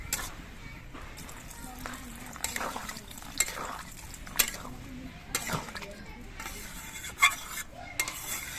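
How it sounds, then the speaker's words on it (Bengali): Broth pours into a pan of potatoes frying with spices for Bangladeshi aloo dum, giving a soft simmering sizzle with scattered stirring scrapes and utensil clinks at moderate distance. "এবার এর মধ্যে আমি ঝোল দিয়ে দিচ্ছি"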